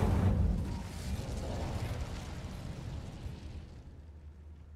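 Incendio fire spell cast in the video game Hogwarts Legacy: a loud, booming fiery burst at the start that rolls into a sustained crackling roar and slowly fades over several seconds.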